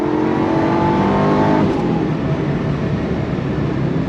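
A 2005 Ford GT supercar with a manual gearbox accelerates hard in first gear, a loud close engine roar that rises in pitch and then drops away as the throttle comes off.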